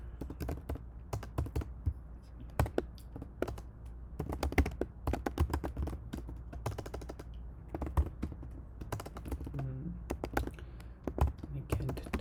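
Rapid clattering keystrokes on a computer keyboard while setting up a C++ project, irregular bursts of close, crisp taps with short pauses between them, some quiet voice in the background.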